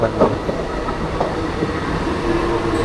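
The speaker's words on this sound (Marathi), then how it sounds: "आपली ट्रेन पण आले." A train rolls in nearby with rumbling wheels and faint clickety-clack over the rails, steady and moderately loud.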